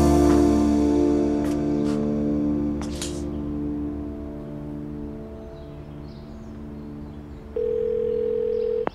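A steady telephone dial tone hums on, then a higher, louder tone cuts in abruptly near the end; no voices.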